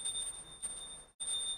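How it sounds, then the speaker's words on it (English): A handheld bell rung in a Hindu worship ritual alongside flower and incense offerings gives a steady, high metallic ringing that carries on alone, with one brief break near the end. "Take the bell in your left hand and start ringing the bell."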